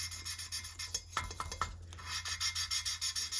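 Steady back-and-forth rasping as a Honda GX270 engine valve is lapped with a suction tool, a rhythmic scraping rub repeated many times, with a brief burst of sharper knocks partway through.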